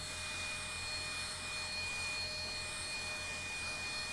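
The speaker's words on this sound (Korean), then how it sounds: "먼지 이렇게 뿌렸고 송풍기로 한번 날려볼게요" A steady, loud rush of air from a blower blowing dust off a car roars continuously with a whining motor tone, unbroken throughout.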